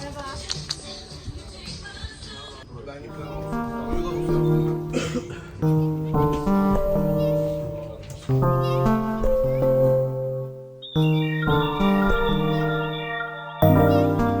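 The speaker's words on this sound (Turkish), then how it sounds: "Oyuncu kedi bu." A playful cat meows repeatedly, close and clear, in a series of drawn-out tonal cries with short pauses between them, a person's voice occasionally audible in the background.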